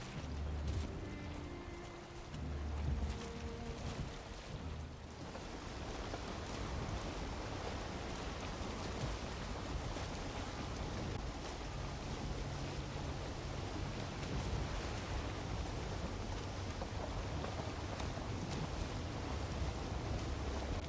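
Wind and water rush steadily around a boat sailing on the open sea in the Viking survival game Valheim, a broad, even roar of waves and gusts with no voices.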